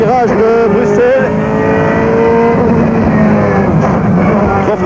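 A 2004 BMW M3 GTR race car drives at Spa-Francorchamps, its engine roaring loud and close from the cockpit with rising and falling pitch as it shifts and runs through the tight turns.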